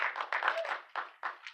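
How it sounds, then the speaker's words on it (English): A live audience at a Los Angeles film tribute gives a round of applause for Dana Beal, bursts of clapping rising and fading in waves over a short stretch, fairly loud and close. "Can we have a round of applause for Dana Beal?"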